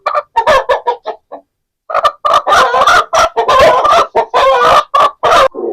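Aseel chickens clucking close up, a seven-month-old pullet among them, giving a burst of short sharp clucks, a brief pause, then a long run of louder overlapping clucks and calls, with no talk.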